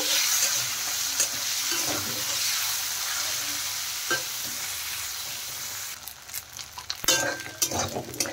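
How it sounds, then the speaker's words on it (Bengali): Salted paneer pieces fry in hot oil while being stirred, giving a steady close sizzle with scraping strokes and a few louder clatters of the spoon near the end. "নেড়ে চেড়ে পনিরগুলো ভালো করে ভেজে নেব।"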